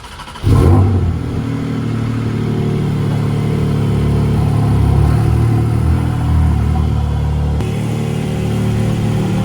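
A Porsche Cayman GTS 4.0 engine cranks and fires up with a sharp bark, then settles into a loud, steady, slightly rising idle rumble heard close by, with no talking.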